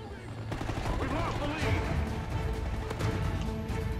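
Gunfire in a Call of Duty: Ghosts multiplayer match on the Dynasty map, a steady barrage of shots over rumbling in-game ambience that runs through the whole moment, with no one speaking over it.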